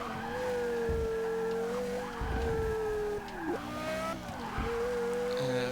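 A 2003 Porsche Carrera GT with a manual gearbox, driven in Forza Motorsport 6, holds a sustained engine whine that rises and dips with gear changes and throttle lifts, with brief tire squeal mixed in.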